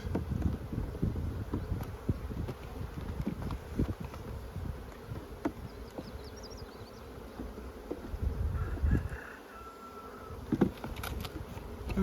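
Honey bees buzzing steadily around a beehive nuc box outdoors, a close, continuous insect drone with scattered knocks and light wind noise, no talking.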